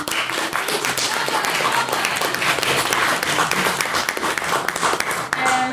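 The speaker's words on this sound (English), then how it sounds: "we have another round of applause for the speakers" Debate-hall audience applauding the speakers at a formal university debate: loud, dense clapping from many hands, sustained and even across the whole stretch with no talk over it.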